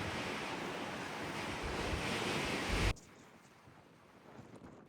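Strong wind blows across an outdoor garden lawn, a loud rushing roar with mic buffeting that cuts off abruptly about three seconds in, leaving a softer, steady breeze.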